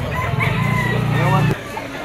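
A young rooster, a stag, crows once at a Malabon pet market, a loud drawn-out call lasting about a second and a half, with people talking nearby.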